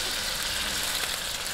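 Chicken sautéing in a pan as the base for Filipino sotanghon soup, giving a steady, dense sizzle close up that stays even and continuous throughout with no talk over it.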